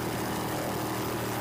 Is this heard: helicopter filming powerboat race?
yes